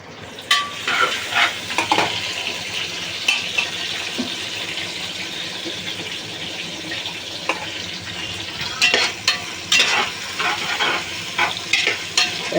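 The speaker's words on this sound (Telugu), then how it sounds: "ఇప్పుడు ఎర్రగడ్డలు వేగాలి" Onions fry in a pan for coconut milk rice, with a steady close sizzle and intermittent scraping and clinking from stirring.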